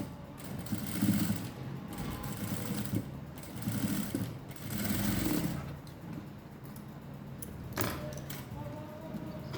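Sewing machine stitching a blouse, running in bursts of steady mechanical whirring with short pauses between runs, close by and moderately loud.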